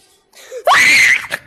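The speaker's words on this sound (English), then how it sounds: "Why does it scream?" A creature in the video game Fun Monke Horror 2 lets out a loud, sustained shriek lasting about half a second, rising sharply in pitch and then held, preceded and followed by faint softer sounds.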